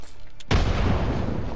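A frag grenade detonating in Apex Legends: a few faint clicks, then a sudden loud, close blast that rolls on as a sustained, dense rumble to the end.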